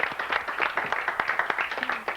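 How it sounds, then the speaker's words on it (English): Studio audience clapping for a singer stepping up to the microphone on a TV show, a lively spread of many hands applauding close and steady, with a few scattered voices mixed in. "please give her a cheer"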